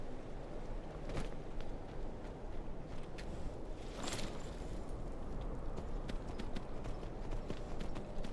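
Horse hooves clip-clop steadily across the ground in the video game Skyrim, a continuous walking rhythm of close, moderately loud hoofbeats with no voices over them.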